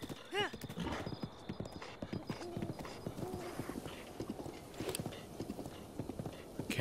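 Horse hooves trot in the video game The Legend of Zelda: Breath of the Wild, a quick rhythmic clip-clop with a brief whinny near the start, while people talk over it.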